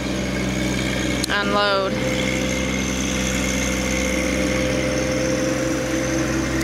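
A John Deere 1025R compact tractor with an H120 loader runs steadily while hauling rock bucketful by bucketful into a shed, a loud continuous engine drone throughout, with a brief creaking whine early on and a voice talking over it.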